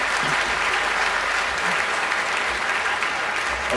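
Even, sustained clapping from a large festival crowd at a talk with Richard Dawkins at bluedot 2018, loud and continuous with no voices over it.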